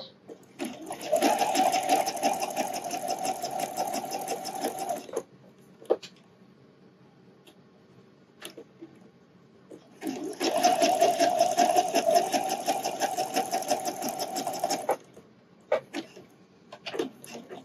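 A sewing machine stitches strap elastic onto a wireless bra in two loud, even whirring runs of about five seconds each. Between them come quiet pauses with a few small mechanical clicks.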